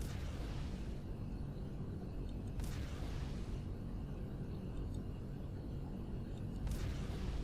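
Plasma turret hits explode in space in the game Empyrion Galactic Survival: two faint, muffled booms a few seconds apart over a steady low rumble.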